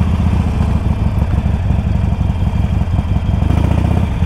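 Harley-Davidson Iron 883 motorcycle engine running at idle, a loud, steady low-pitched rumble with a rapid uneven throb and mechanical clatter, close by and continuous with no talking.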